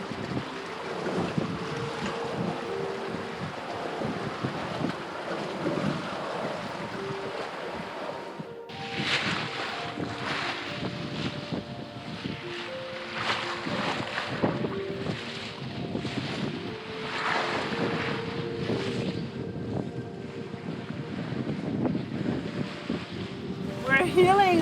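Wind gusts roar over a heeling sailboat at sea in the Gulf Stream, a loud, steady rush of wind and water with swells of intensity, broken by faint creaks and tonal hums from the boat.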